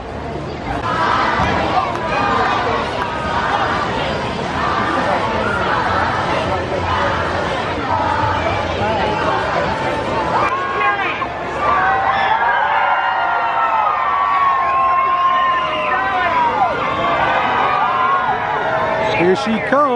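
A large, excited crowd at Dollywood waits for Dolly Parton, a dense hubbub of chatter, shouts and children's voices that swells into louder cheering and whoops partway through.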